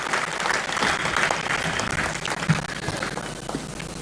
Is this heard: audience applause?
yes